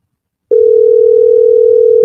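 A telephone dial tone sounds while a call is placed, beginning abruptly after half a second of silence and holding as a single loud, steady hum to the end.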